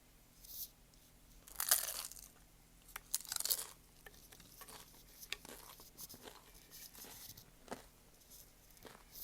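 Several crisp crunches close up, spaced irregularly over a quiet background, like someone biting into and chewing crunchy food.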